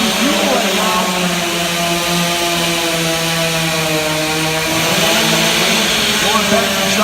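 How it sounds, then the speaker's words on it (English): A racing chainsaw screams at full throttle while cutting timber at a Stihl Timbersports competition, a loud, sustained whine with slight pitch dips as the bar bites, with a commentator talking over it. "He's got the saw at about a 15-degree angle."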